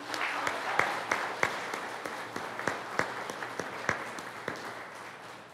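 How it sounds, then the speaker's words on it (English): A church congregation at a Saturday evening Mass claps together, with sparse, distinct hand claps that ring out in a loose rhythm, some louder than others, over a faint murmur. "Let us clap their hands for them."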